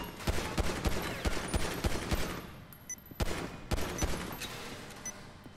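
Gunfire in Grand Theft Auto 5, a quick series of sharp shots fired in a rapid rhythm, then a short lull and a few more scattered bangs, fairly close and with no talking.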